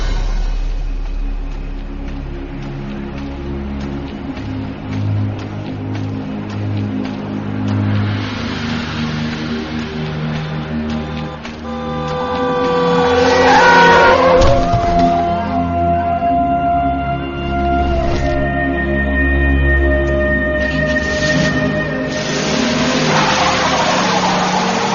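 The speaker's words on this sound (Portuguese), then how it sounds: "Sob as rodas de um carro que nem sequer parou" A car engine roars and accelerates in a radio-drama sound effect, revving up loudly mid-way with a sharp skid squeal, then speeding on with continuous engine drone.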